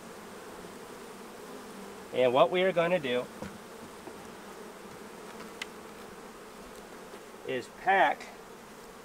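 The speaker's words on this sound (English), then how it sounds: "And so there's quite a few bees up in there." Honey bees hum steadily inside a small hive box set up for virgin queens, a low, continuous buzz running throughout while someone talks briefly near the start and again near the end.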